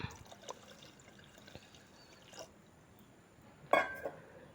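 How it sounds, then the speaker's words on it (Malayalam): Water poured into a pot of wheat and green gram for porridge, a soft, quiet pour with a brief louder splash near the end. "വെള്ളവും കൂടെ ഒഴിക്കാം."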